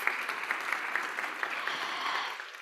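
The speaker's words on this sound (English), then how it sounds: "Another round of applause." An audience at a youth forum opening ceremony applauds after a film screening, a steady wash of many hands clapping together that fades slightly toward the end.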